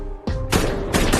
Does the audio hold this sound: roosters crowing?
no